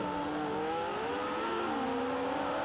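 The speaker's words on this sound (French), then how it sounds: "Nous allons attendre Fittipaldi qui va arriver dans le virage rosier, le voici" A 1972 Formula One car driven by Fittipaldi sweeps through the Rosier bend at the French Grand Prix, Clermont-Ferrand, its engine note shifting steadily as it rises and falls through the corner, loud and continuous with no talk.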